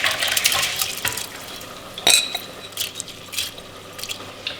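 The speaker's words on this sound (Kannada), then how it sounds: "ಈ ನೆನೆಸಿಟ್ಕೊಂಡಿರೋ ಅಕ್ಕಿನ ನೀರು ಸಮೇತ ಹಾಕ್ಕೊಳ್ತಾ ಇದ್ದೀನಿ ಒಂದು ಪಾತ್ರೆಗೆ" Soaked rice and its soaking water are tipped into a cooking pot for a country-chicken biryani, making a close splashing pour with a few metallic clinks and scrapes, and no one speaks.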